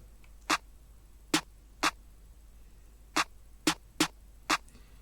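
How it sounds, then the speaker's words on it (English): Crisp snare and clap hits alternate in a sparse, syncopated drum pattern, seven sharp strikes with uneven gaps between them, alone without any talking. "I added a snare offbeat, and it sounds like this together."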